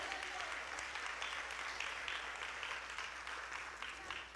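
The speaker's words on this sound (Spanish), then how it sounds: "dale un fuerte aplauso a Dios" A church congregation claps together in sustained, fairly even applause, a faint crowd of hands rising and falling slightly over a few seconds.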